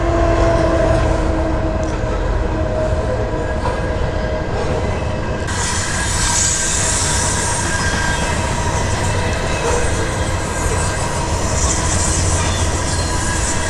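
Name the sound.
train passing by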